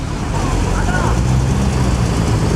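Vintage Ferrari racing car in the Mille Miglia, a loud continuous engine drone and road rush lasting a couple of seconds at close range, with no clear speech over it.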